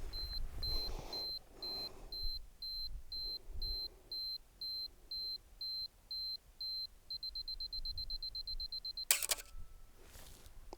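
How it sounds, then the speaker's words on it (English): A 35mm film camera's self-timer beeps in an even, repeating pattern for several seconds, then speeds into rapid beeps before the shutter fires with a crisp, brief click. The room is quiet and everything sounds close. "And let's see what the self-timer does."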